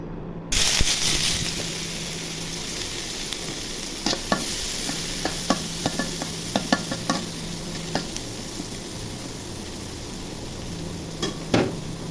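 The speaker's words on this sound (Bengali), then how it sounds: "তেল গরম হয়ে গেছে, এখন পেঁয়াজ কুচি দিয়ে দিব।" Chopped onion fries in hot oil in a pan for a rohu fish and eggplant curry, a steady close sizzle with frequent light scraping clicks of a stirring spoon.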